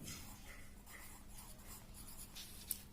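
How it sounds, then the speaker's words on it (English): Pen on paper writing out an answer, a soft continuous scratching and rubbing close by, faint and steady, with no talk. "So we will write this answer here."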